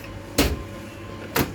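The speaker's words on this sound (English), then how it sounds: "Close the door back up." A coffee machine's front door is shut twice during a cleaning cycle with a cleaning tablet inserted. Each close is a short, sharp clunk, about a second apart, over a low steady hum.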